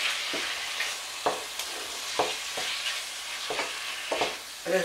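Teriyaki chicken stirred in a frying pan, a soft hissing sizzle with a handful of scraping utensil strokes at uneven intervals, close but fairly quiet, no one talking.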